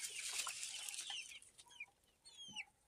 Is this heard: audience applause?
no